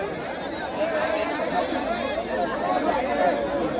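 A large crowd at a bullock cart race near Kongaon, Mumbai, talks all at once in a dense, steady murmur of overlapping voices with no single speaker standing out.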